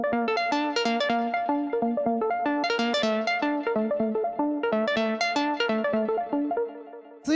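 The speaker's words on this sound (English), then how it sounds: "The first layer we have here is this little analog lead synth thing." A small analog-style lead synth playing a repeating loop of plucky, bright staccato notes in a steady bouncing rhythm over a held low tone, loud and upfront with no voices.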